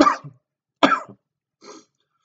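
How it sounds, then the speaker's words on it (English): Three short coughs from a person with a cold, close and fairly loud, spaced about a second apart, the last one quieter, with silence in between. "except for some coughing here and there"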